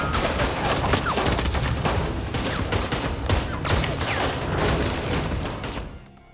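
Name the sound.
gunfire during a film shootout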